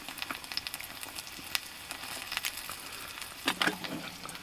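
An egg fries in a SilverAnt titanium pan, giving a soft, steady sizzle with scattered small pops and a brief louder crackle near the end.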